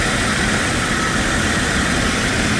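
A Jeep Cherokee XJ engine runs after a new cylinder head is fitted, a steady broadband roar filling the whole moment without any change, loud and close.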